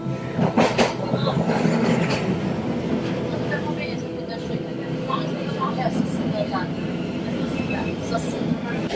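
A tram on Melbourne's Route 35 rumbles along steadily through the CBD with rattling wheels and occasional squeals on the rails, while a person talks over the ride.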